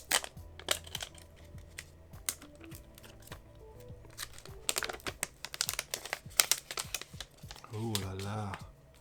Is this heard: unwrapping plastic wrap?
yes